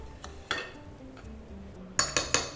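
A spoon scrapes cooked bitter gourd stuffing filling from a pan into a bowl, with soft scraping and a few sharp metallic clinks near the end.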